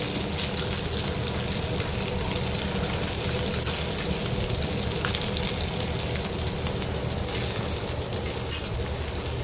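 Semolina-coated pomfret frying in hot oil, a dense, continuous rain-like sizzle with fine crackles, close and even in loudness from start to finish, with no voices.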